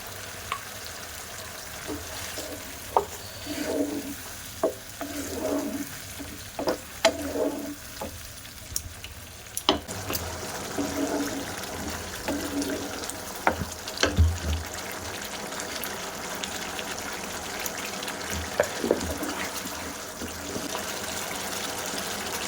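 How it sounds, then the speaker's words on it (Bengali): Water poured into a pan of chicken curry, with a steady sizzle and splashing, pouring sounds and occasional spoon clinks running throughout, close and without talk. "এবার আমি ওর মধ্যে আরেকটু জল দিয়ে দেবো।"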